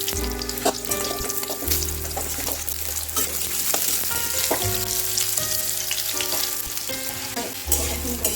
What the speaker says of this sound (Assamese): বাকী থকা কঁঠালখিনি মই একেদৰে ভাজি ল'ম।